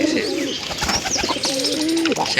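White pigeons coo near a nest box, with soft throaty rolling calls and a few chirps overlapping, close and moderately loud, a faint voice in the background.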